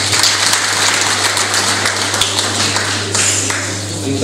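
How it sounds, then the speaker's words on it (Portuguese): Applause from an audience at a diploma ceremony in Gwaza Muthini runs through as a dense, steady spread of clapping, loud and close, with an electrical hum underneath that fades slightly toward the end. "Salva de palmas."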